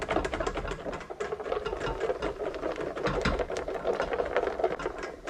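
Egg yolk sauce is whisked briskly in a bowl for eggs Benedict, giving a dense, steady run of fast rattling clicks and taps that carries on without a pause and sounds close.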